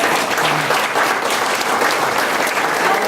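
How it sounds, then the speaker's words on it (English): An audience at an annual Pistols and Pearls gala event claps steadily and densely from start to finish, a loud continuous applause with no pauses. "I want you to give a round of applause for Rich Merrill, our Granbury multimedia pe"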